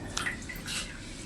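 Tap water runs steadily into an AQUA QW950XT twin-tub washing machine as it fills, a soft continuous splashing and trickling with faint drips, close by and alone.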